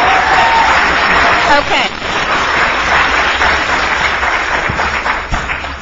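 Applause from an audience at a university debate on vaccine mandates, a loud burst of clapping that gradually fades, with a brief spoken word over it.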